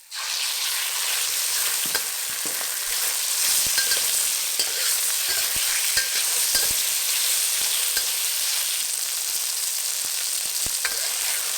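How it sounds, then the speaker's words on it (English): Chicken pieces fry in a hot pan with oil, ginger and garlic, giving a loud, dense, continuous sizzle close by, broken by occasional scraping stirs. "Now, fry the chicken till it turns white on the outside."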